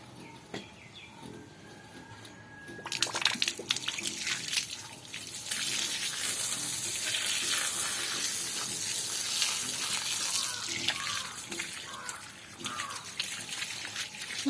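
A forceful spray of water hits a lotus tuber during repotting, starting after a quiet moment and then rushing steadily and loudly before tapering into splashes and drips.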